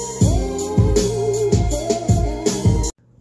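Full hip-hop drum beat, punchy kick and snare hits with hi-hats and cymbals repeating in a steady loop over a melodic layer, loud and close, stopping abruptly.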